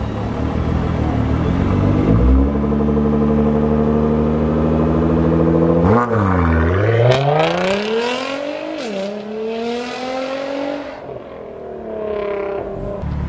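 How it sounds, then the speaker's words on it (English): A supercar in Jamaica idles with a deep rumble, then its engine is revved in two sharp rising sweeps that fall back, loud and close, with a crackling tail. "Give me something out the exhaust."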